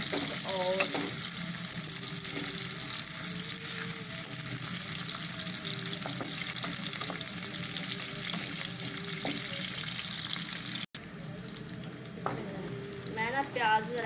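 Onions frying until brown for a chicken korma: a steady close sizzle with occasional stirring scrapes, then a brief cut after which the frying continues over faint background voices.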